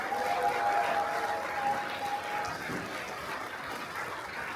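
An audience at a rally launching a campaign for a special law on an administrative capital in Sejong applies steady applause, a dense wash of clapping that is moderately loud, then thins slightly as it continues.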